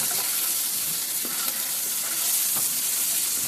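Ginger pieces sizzle in hot cooking oil in a wok, a loud, dense, continuous frying hiss with a few faint pops and no talking.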